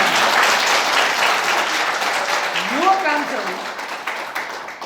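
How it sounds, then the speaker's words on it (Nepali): A congregation at a festival sermon claps in steady, dense applause that fills the space and slowly tapers, while a voice speaks briefly over it. "एउटा ताली बजाएर भन्नुलाई"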